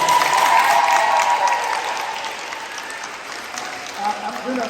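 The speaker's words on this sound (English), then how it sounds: "Please give them a big round of applause." An audience at a school sports awards banquet claps for the administration: steady, dense applause that stays loud, then eases slightly toward the end, with voices mixed in.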